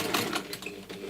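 A sewing machine stitches a personalised purse, a quick steady mechanical whir with rapid needle rhythm, close and fairly quiet, lasting about a second.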